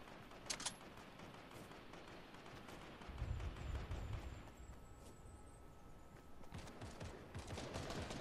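Gunfire in a first-person shooter video game, a quick burst of shots near the start followed by rolling, fainter distant firing and a low rumbling impact, all under a constant dense game soundscape.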